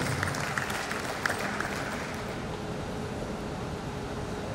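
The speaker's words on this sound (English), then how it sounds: "round of applause for him." Audience applause at a university inaugural lecture as a dean is recognised, a few distinct claps at first, then a faint, diffuse wash of clapping fading into roomy background noise.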